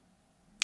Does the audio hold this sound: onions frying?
no